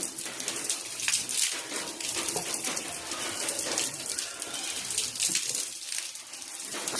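Filtered water gushes steadily out of a thick plumbing pipe for washing hands and face, a continuous close hiss and splash with birds calling faintly in the background.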